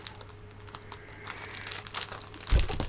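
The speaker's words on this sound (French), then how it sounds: "il faudrait déjà que j'arrive à enlever le scotch" Crinkly crackling of adhesive tape being peeled, a soft busy rustle that ends in a sharper, louder rip near the end.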